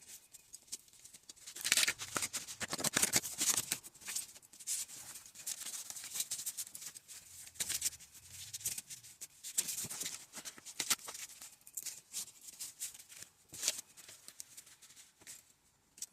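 A tarot card deck being shuffled up close: soft, irregular papery rubbing and riffling, with quick flurries of card flicks rising and falling over about sixteen seconds, fairly quiet and with no talking.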